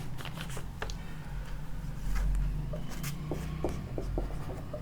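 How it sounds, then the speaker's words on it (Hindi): Pen or marker writing out a percentage aptitude question by hand, heard as scratchy strokes and taps in short bursts over a steady low hum, close and fairly quiet, with no talking. "सबसे पहले मैं क्वेश्चन लिखता हूँ।"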